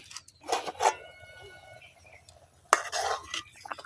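Cauliflower being turned over in a pan with a utensil, giving a few scattered clinks and scraping stirs, with two louder clattering bursts near the start and toward the end, close and fairly quiet.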